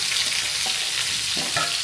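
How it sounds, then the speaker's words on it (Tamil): Onions frying in oil until brown, a dense continuous sizzle close and steady with faint stirring scrapes, no voices. "நல்லா ப்ரௌன் கலர் ஆகிற வரைக்கும் இந்த வெங்காயத்தை வதக்குங்க"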